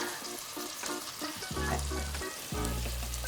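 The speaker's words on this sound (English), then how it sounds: "So we've added our onions, we've added the garlic. Cooking, saute for a minute." Onions and garlic sauté in a pan, producing a soft, steady sizzle with faint crackles, set against background music that grows fuller partway through.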